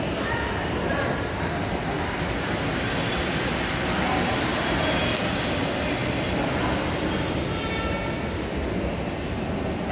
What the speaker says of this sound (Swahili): Leo natembelea kituo cha mwendokasi ya mjini ambapo huku India wanaita metro.